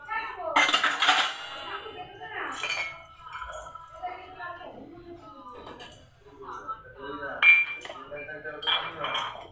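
Cups and dishes clink and clatter in a home kitchen, with bright scattered chinks of crockery and cutlery interspersed with a person talking nearby.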